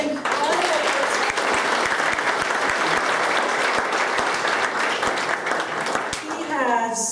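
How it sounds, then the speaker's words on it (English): Warm, sustained applause from a seated crowd at a town hall meeting, dense clapping throughout with sharp individual claps popping out, and a voice cutting in as it fades at the end. "A round of applause for Mark."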